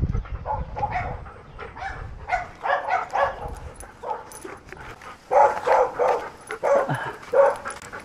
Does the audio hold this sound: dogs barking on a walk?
yes